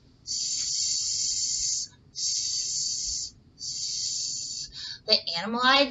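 A voice imitates a snake with three long, steady hisses separated by brief pauses, close and fairly loud, followed by a short burst of speech at the end.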